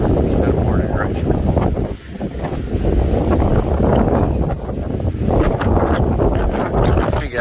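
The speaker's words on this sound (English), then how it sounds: "Let me get out of this wind" Strong wind gusts across a hiking trail on an Appalachian Trail thru-hike, buffeting the microphone with loud, rumbling roars and a short dip partway through.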